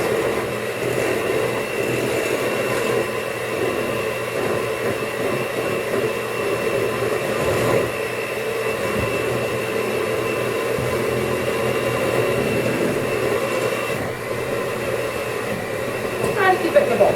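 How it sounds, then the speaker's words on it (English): An electric hand mixer beats blueberry cake batter in a bowl, giving a steady, loud motor whir that runs unbroken throughout with slight shifts in pitch. "I have a hand mixer."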